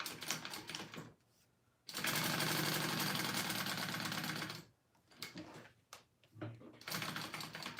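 Sewing machine basting down the pin slot of a handmade wallet, running in rapid stitching bursts with pauses between, close and loud.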